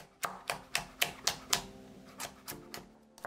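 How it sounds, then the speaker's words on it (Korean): A knife slices a single Cheongyang chili pepper in about a dozen crisp, evenly spaced strikes, quick and close, each with a short sharp knock against the board. "청양고추 1개는 슬라이스"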